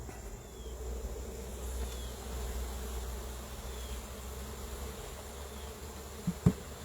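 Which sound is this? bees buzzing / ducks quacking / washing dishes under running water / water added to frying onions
bees buzzing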